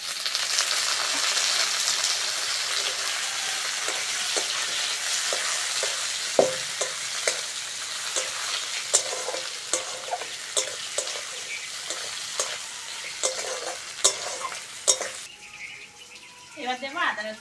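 Tomato hitting onions already frying in a pan for a village-style banana stem dish, a steady loud sizzle with scattered sharp clinks and scrapes of stirring, and faint birdsong in the open air behind it.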